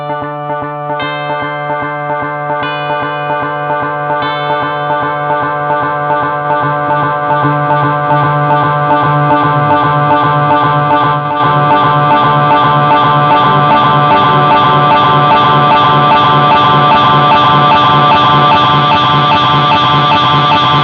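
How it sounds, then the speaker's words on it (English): An electric guitar plays through the analog delay effect of a Boss Katana V3 amp, its sustained tones and chords repeating in echoing layers that build into a dense, loud wash. "I like delay, I like echo, but what I like about this one is it's particularly analog."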